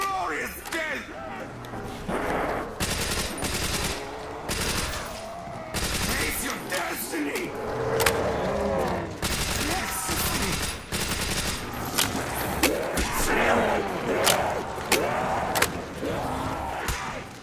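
Dense bursts of rapid machine gun fire and other gunshots crackle almost without pause in Black Ops 1 Zombies on the Der Riese map, with a player talking over the shooting.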